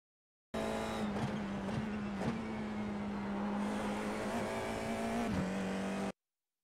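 A FIA F4 race car in a racing sim at Long Beach holds a steady, loud engine drone throughout, with brief gear-shift blips and tyre scrub as it accelerates and turns, with no voices over it.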